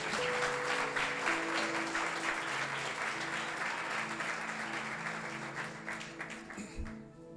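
Loud, sustained applause from a church congregation fills the space for several seconds, dense and steady before tapering off near the end, with faint voices mixed in.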